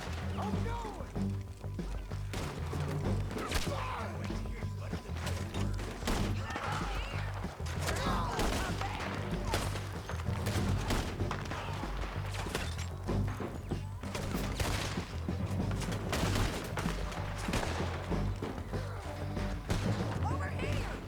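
Gunfire crackles through a shootout in Red Dead Redemption 2, dense repeated shots and impacts layered under continuous game music and shouting voices.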